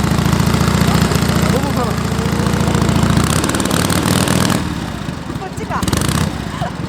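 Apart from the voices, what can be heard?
1935 Indian motorcycle engine idling and revving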